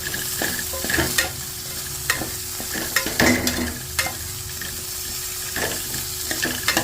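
Cut vegetables are stirred into a pan over a medium flame for a chicken stew, with a soft, steady sizzle broken by close spatula scrapes and taps against the pan.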